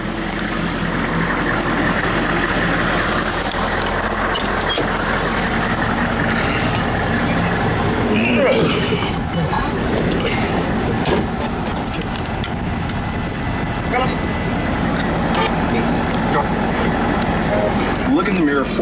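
A 1996 Hummer's engine drones steadily from inside the cabin while driving, a constant low rumble with road noise throughout and people talking over it.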